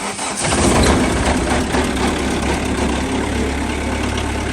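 A tractor's diesel engine turns over after its glow plugs have warmed and catches almost at once, then settles into a loud, steady, rumbling idle close by with no talking.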